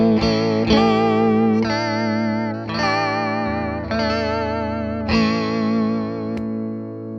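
Electric guitar chords ring out through a Behringer vibrato pedal routed via a true bypass looper, with a wavering, chorus-like shimmer over several sustained strums and no talking.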